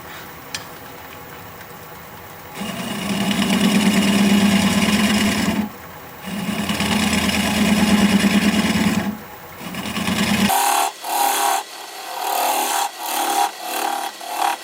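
Wood lathe turning a driftwood piece with a 3/8 inch swept-back bowl gouge, heard as loud, rough scraping cuts in several sustained passes separated by short pauses, then shorter choppy cuts at the end.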